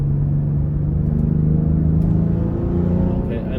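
A BMW X3 M40i on an MHD stage 2+ tune accelerates with a steady deep engine drone and rising rumble heard from inside the cabin, loud and continuous throughout.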